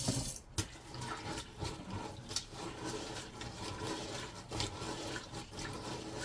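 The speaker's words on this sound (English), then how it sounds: "Pour it out, rinse and repeat." Water pours out of a dish and splashes as a dirty container is rinsed during hand dish washing with a Scrub Daddy sponge, the running and sloshing continuing unevenly at close range with brief louder gushes.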